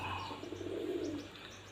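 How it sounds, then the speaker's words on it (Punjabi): A soft, low pigeon coo rolls out once, close by and fairly quiet, with faint chirps in the background. "ਕਬੂਤਰ ਲੱਗਿਆ ਹੈ ਗੁੜਕਣ ਤੇ"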